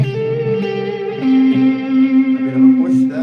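A sustained electric guitar chord through a Tube Screamer overdrive placed after the reverb, warm and pushed, held and lightly restruck, ringing on with a thick tone.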